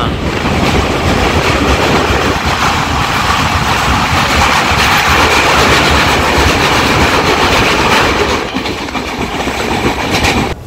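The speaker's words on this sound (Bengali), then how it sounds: "এই বালি ব্রিজ কিন্তু ক্রস করছে এখন আমাদের ট্রেন" A train crossing the Bally Bridge gives a loud, steady rumble of wheels and rattling carriages with wind buffeting the microphone, heard from on board and continuous throughout.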